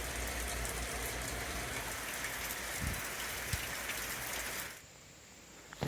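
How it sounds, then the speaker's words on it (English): Rain falls steadily at a woodland campsite in West Virginia, a dense, even hiss with a few heavier drips. The wash cuts off near the end, leaving a quieter background. "And it's raining."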